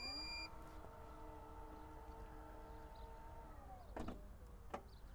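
A powered tailgate on a 2025 Forthing T5 EVO Sport SUV closes, a steady motor whine running for several seconds before winding down, then two quick latching clicks, close and fairly quiet with no talk.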